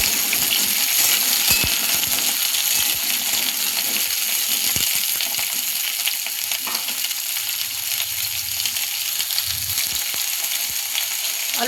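Potatoes frying in oil in a pan while an egg curry with fenugreek is being cooked, giving a steady, loud, close sizzle throughout with a few faint clinks and stirring scrapes.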